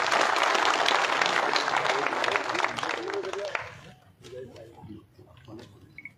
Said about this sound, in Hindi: ताली बजाकर स्वागत करो।